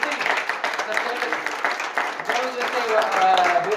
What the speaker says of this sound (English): we give him applause for that